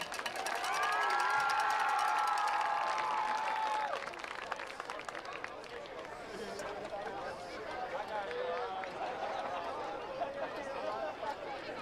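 Audience applause for senior band students of the Woodville Eagle Band at an Anahuac vs Woodville game, a loud sustained clapping crowd with cheering, and a sustained tone sounding over the first few seconds before the clapping continues steadily.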